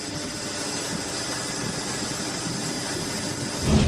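A car engine running steadily as it warms up during a cylinder compression test, a constant close rumbling drone with no change in pace and a slight swell at the very end, with no voices.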